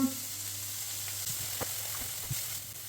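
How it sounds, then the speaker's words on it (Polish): Chopped onion and garlic sauté in a little olive oil, giving a soft continuous sizzle with a few light stirring taps, close and moderately quiet. "Wrzucamy cebulkę razem z czosnkiem, troszeczkę oliwy"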